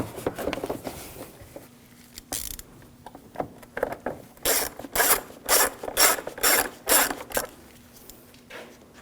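Screws being tightened on the radiator of a 2007-2013 BMW 328i 3.0L L6: rapid ratcheting clicks in short bursts, close and fairly loud, with scraping handling noises between.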